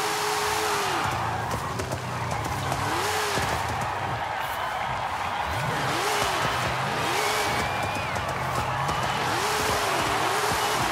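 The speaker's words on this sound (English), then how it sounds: "let's get a good drift in before we go" Car drifting through a corner in Forza Horizon 5, with loud, sustained tire squeal that rises and falls in repeated wavering screeches over a steady engine roar, alone without talk.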